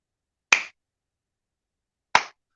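Two sharp, unusual hand claps, snappy and crisp like a finger snap, ring out alone about a second and a half apart against total silence.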